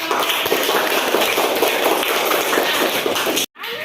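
A class of students in a classroom applauds, a dense, even patter of clapping that carries on for about three and a half seconds before cutting off sharply.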